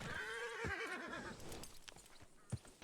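Horse in a Wild West roleplay game gives a loud, wavering whinny that fades, followed by a few hollow hoof clops on hard ground.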